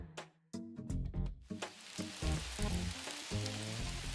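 Heavy, hail-like rain in the video game Neverness to Everness: a dense, steady patter of hard drops that sweeps in after a few sharp hits and keeps drumming loudly over a low musical bed.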